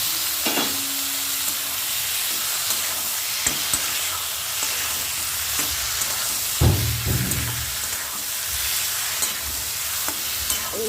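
Fried brinjal pieces are stirred in a pan with tomato, onion and chilli for bharta, giving a steady close sizzle broken by scraping stir strokes, with no talk.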